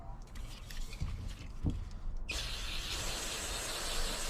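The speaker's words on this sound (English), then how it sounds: "you can always have some like brake cleaner laying around, and you spray your rag" Faint rustling and a soft tap give way to a sudden, sustained spray of brake cleaner aerosol onto a rag, hissing steadily close by.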